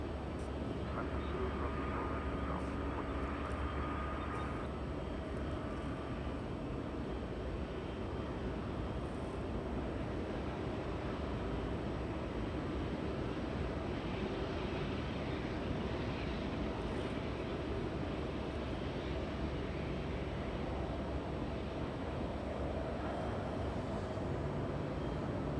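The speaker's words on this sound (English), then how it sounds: "Heavy arrival coming in." At Los Angeles International Airport a heavy airliner comes in on arrival, a steady broad jet roar that holds level for the whole stretch, mixed with wind and distant airport rumble and no talking.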